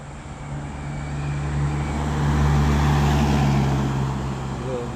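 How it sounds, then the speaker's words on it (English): Emerald Carrying Company fuel truck passing on a busy road near Ipswich, a low engine and tyre rumble swelling to its loudest midway before easing off, steady and close. "We've got an Emerald Carrying Company truck coming."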